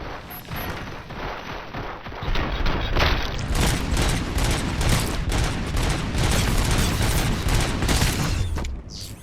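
Rapid sustained gunfire from the video game Robocop: Rogue City, a loud continuous burst of automatic shots and booms that swells after a quieter start and runs to the end of the clip.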